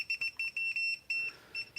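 Rapid, high-pitched electronic beeping from a ZOKOUN laser level signalling level, in short irregular bursts, fairly quiet and close, with brief pauses between pulses.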